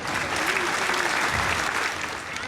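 Applause from an audience at a Gudi Padwa event fills the space as a full, even clatter of many hands, steady and close before easing slightly toward the end.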